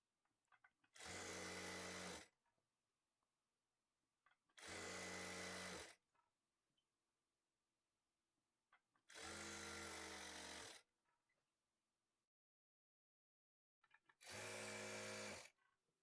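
A sewing machine stitches thread piping onto a blouse neckline in four separate loud bursts of about a second and a half each, with short quiet pauses between runs.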